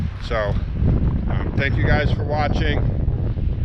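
Steady broadband wind roar buffets the microphone throughout, with a person talking over it.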